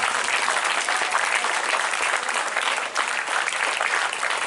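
Audience applause at a school building opening ceremony and diamond jubilee, dense and steady clapping from a large crowd filling the hall throughout, loud and continuous with no speech over it.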